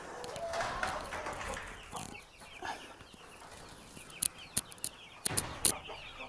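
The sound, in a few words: chicks and broiler chickens in a coop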